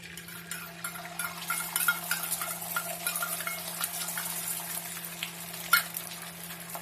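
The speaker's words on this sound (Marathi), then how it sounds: "ऑमलेट काढणार आहे हे बघा" An omelette sizzles in a little oil on a hot griddle over a gas stove, a soft continuous frying hiss with faint crackles and a steady low hum beneath.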